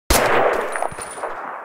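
A triggered explosion in the CryEngine 3 game editor: one sudden loud blast that stays as a long, dense roar with clanging debris, steady and fading only slightly.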